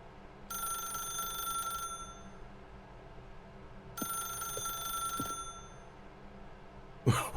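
A telephone rings in the video game The Stanley Parable, with two long electronic trills separated by a pause over a low ambient hum, followed by a sharp thump at the end.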